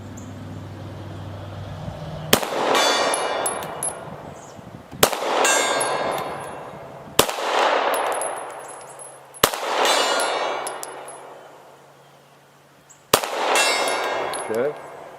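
Pistol rounds striking a steel gong target at distance, five sharp shots spread over about fifteen seconds, each followed by a ringing metallic clang that slowly fades.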